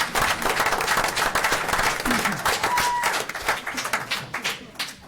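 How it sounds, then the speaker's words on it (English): Audience applause at a town council meeting, dense, lively clapping from a room full of people that continues throughout, slowly thinning and tapering toward the end. "Let's give a round of applause to Mr. Eckert."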